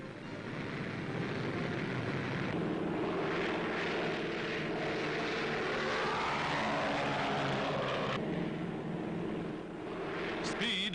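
A twin-engine wooden de Havilland Mosquito bomber drones steadily overhead, a loud, continuous propeller-engine roar that holds for the whole stretch with slight swells in pitch.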